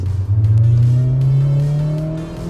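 A 1999 Honda S2000 engine revs hard and close, its pitch climbing smoothly to a high, sustained wail before easing off slightly, loud and alone without talk.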